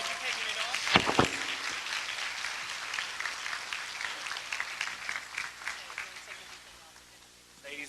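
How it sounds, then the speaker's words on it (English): Audience applause fills the clip, a dense steady clapping from a crowd that starts loud with a few sharp claps and gradually fades toward the end. "Can you give their sisters a round of applause?"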